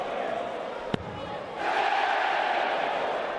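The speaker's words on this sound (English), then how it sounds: "And that cheer indicates that he's on a 9-darter." A darts crowd at the World Matchplay swells into a rising cheer as a player chases a nine-dart finish; a sharp thud of a dart lands first, then the roar lifts and holds, with commentary talking over it.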